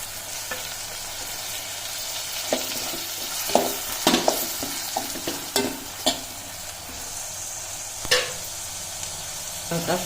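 Small cleaned fish, heads and tails removed, fry with tomato in a pan, giving a continuous close sizzle punctuated by a run of clattering stirs and scrapes around the middle.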